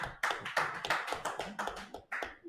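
A small group claps for a couple of seconds, close, with uneven, fairly sparse hand claps and no voices.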